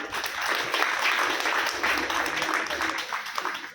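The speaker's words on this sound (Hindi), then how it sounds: "आपके निर्णय के लिए जोरदार तालियां बजा लीजिए आप" Applause from an audience at a motivational leadership seminar in Dehradun, a steady broadband wash of many hands clapping that sustains for several seconds at moderate volume with no clear pauses.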